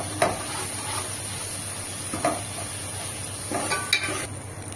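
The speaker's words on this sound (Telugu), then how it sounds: "ఇందులో 1 టీ స్పూన్ అల్లం వెల్లుల్లి పేస్ట్, ఇవన్నీ మనకి పచ్చివాసన పోయేంత వరకు మనం వేయించుకోవాలి." Ginger garlic paste fries in a pan with a continuous close sizzle, broken by a few soft scrapes and taps as it is stirred.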